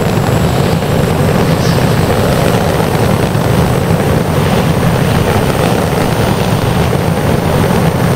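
An amphibious aircraft engine in the video game Stormworks: Build and Rescue drones loudly and evenly at high speed, a dense, unbroken roar without variation.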